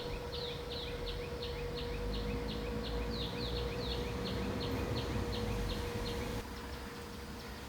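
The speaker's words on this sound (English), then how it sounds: "Wonderful sound of birds." Birdsong in early morning greenery beside a road near a historic early 20th-century palace in Yangon, a rapid series of repeated high chirps over steady roadside hum and traffic, moderately distant, lasting most of the clip before fading.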